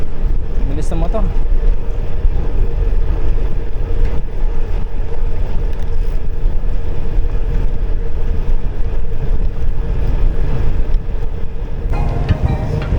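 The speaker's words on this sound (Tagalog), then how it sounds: "Walang palya talaga yung headwind dito sa Florida tsaka Porac." Strong headwind roars across a motorcycle rider's microphone on a fast road ride in Porac, a loud, continuous buffeting rush that goes on unbroken.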